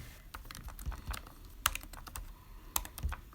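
Someone types a Wi-Fi password on a computer keyboard, producing a steady run of soft, close key taps with a few louder strokes mixed in, with no talking.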